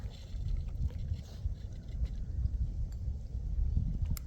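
Steady wind buffeting the microphone out on the water while fishing for catfish from a small boat, a continuous low rumble with gusty swells and no talk.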